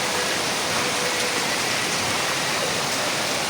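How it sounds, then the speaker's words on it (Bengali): Heavy rain pours steadily during a monsoon downpour, a dense, continuous broadband roar of water close by with no break or talk throughout. "আধা ঘন্টা ধরে বৃষ্টি হচ্ছে প্রচণ্ড বৃষ্টি"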